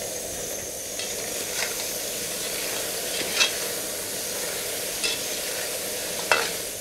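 Onions and guinea fowl fry in a covered pot, giving a steady, moderate sizzling hiss throughout, with a few soft knocks and clicks scattered over it.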